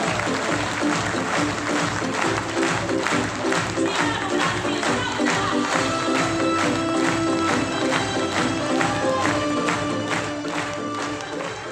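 Loud, sustained audience applause fills a hall during a motivational talk, dense and continuous for several seconds, with a tonal, music-like layer and some voices underneath.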